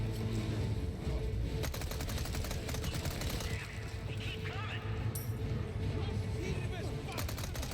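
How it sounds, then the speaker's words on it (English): Rapid gunfire from Resident Evil 4 Remake rattles in bursts throughout, with sharp repeated shots layered over game ambience and a voice talking underneath. "Keep shooting them."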